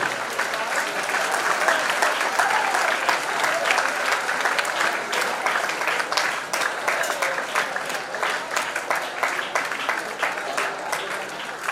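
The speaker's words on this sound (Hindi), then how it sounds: "ताली मारते रहिए।" A hall audience claps continuously for volunteer workers receiving medals, a dense even wash of applause that stays loud throughout with scattered crisp individual claps.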